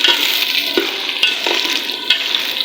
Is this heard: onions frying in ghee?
yes